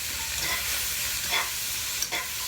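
Yard-long beans frying in oil in a pan, a dense, even hiss of sizzling close by, with a few faint stirring scrapes and clicks.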